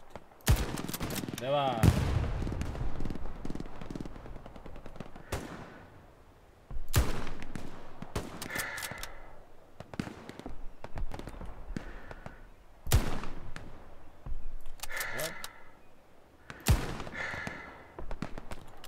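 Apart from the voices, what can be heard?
machine gun fire in video game Hell Let Loose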